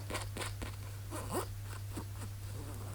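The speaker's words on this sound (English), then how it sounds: "It's got a little white zipper." A few short pulls of a small white zipper on a jewellery bag rasp quietly, brief scratchy strokes spaced irregularly over a low steady hum.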